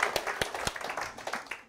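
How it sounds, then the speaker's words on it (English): A lecture audience gives the speakers a brief round of applause; the claps are scattered, irregular and fairly faint, sounding like a small room. "let's just give them a round of applause real quick"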